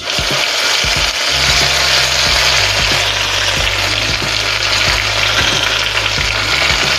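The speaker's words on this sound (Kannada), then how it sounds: "1 ಸ್ಪೂನು ಸಾಸಿವೆ ಹಾಕೋತಾ ಇದ್ದೀನಿ. 1 ಸ್ಪೂನು ಜೀರಿಗೆ ಹಾಕೋತಾ ಇದ್ದೀನಿ." Mustard seeds and cumin sizzle loudly and steadily in hot oil for a Kannada heerekayi sippe chutney, with a low mechanical hum underneath and scattered small pops throughout.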